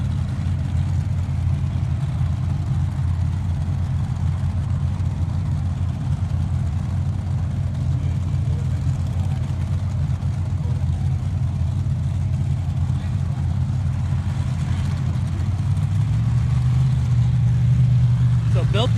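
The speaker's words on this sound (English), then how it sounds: "Sounds like both cars are started up." Two drag racing cars idle together at a Top Eliminator drag strip event, a steady, loud low rumble holding without a break, with a slightly heavier swell near the end.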